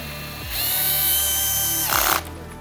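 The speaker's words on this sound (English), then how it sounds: "As mentioned, with the lowest torque setting of the driver drill." Cordless driver drill on its lowest torque setting tightening bolts on the transmission oil pan of a ZF 6HP19 six-speed automatic: a close, steady motor whine lasting about a second and a half, ending in a brief clutch rattle before it stops.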